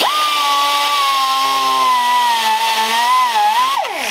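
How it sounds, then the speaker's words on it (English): A Dremel air tool grinds out the eye hole of a plastic dollar store skull, giving a loud, close, high-pitched whine that wavers slightly under load before dropping off at the end. "I always like to go back with the Dremel air tool, and that's how I clean out all my jaws and stuff like that"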